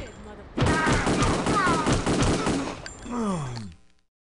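Pistol gunfire in the video game Kingpin, a dense run of rapid, loud shots lasting a couple of seconds, then a brief pause and another shorter burst of firing, with a voice mixed in.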